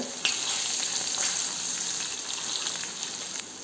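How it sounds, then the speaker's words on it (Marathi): Corn kernels deep-fry in hot oil, giving a steady bright sizzle with crackling pops that stays even and close throughout, with no talking. "तेलामध्ये आपण कॉर्न सोडूया. छान तळून घ्यायचे तेलात आपल्याला क्रिस्पी होईपर्यंत."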